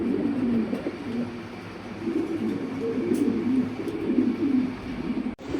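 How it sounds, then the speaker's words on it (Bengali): Many pigeons of mixed breeds at a dealer's loft coo continuously in overlapping low, throaty rolls, close and steady throughout, with no talking. "অনেক কয় জাতের কবুতর দেখা যাচ্ছে ভাই।"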